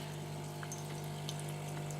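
A Beko CEG7425B bean-to-cup coffee machine heats its water, giving a steady, close pump-like hum with a constant low drone and faint watery hiss throughout, with no talking.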